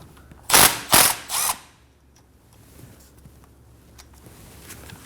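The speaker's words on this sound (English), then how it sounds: "Using a 10mm socket, go ahead and take it off." Three quick ratchet bursts as a 10mm socket loosens a bolt on the rear knuckle ABS wheel speed sensor of a 2011-2016 Kia Optima, close and loud, followed by faint shop quiet.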